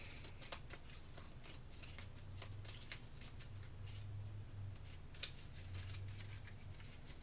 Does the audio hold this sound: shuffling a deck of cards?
yes